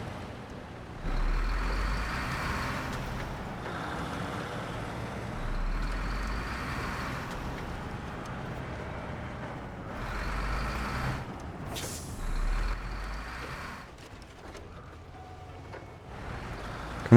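Truck engine rumbling in an off-road driving video game, with repeated bursts of air-brake hiss and low engine swells recurring every few seconds, steady and fairly loud throughout.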